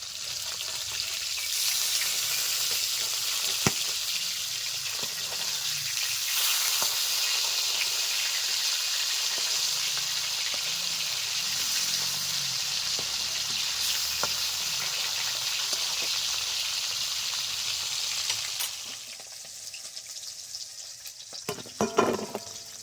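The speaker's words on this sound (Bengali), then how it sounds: "এদিকে মাছটাও ভাজা হয়ে গেছে উল্টে দিচ্ছি" Rui fish frying in oil in a pan, a steady hissing sizzle throughout that drops away near the end, followed by a few sharp knocks and clatters as the pieces are flipped, with no voices.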